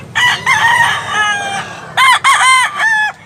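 A rooster crows at a chicken farm in Tabunok, Cebu: a long, loud cock-a-doodle-doo up close, then a second crow after a short pause, over faint background noise.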